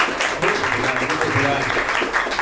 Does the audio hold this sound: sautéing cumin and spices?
no